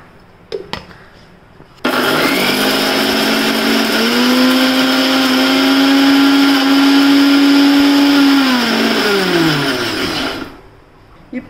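A mixer grinder whirs loudly in one long burst of about nine seconds, grinding roasted spices with grated coconut. It spins up sharply, holds a steady high whine, then winds down, with brief clicks before and after.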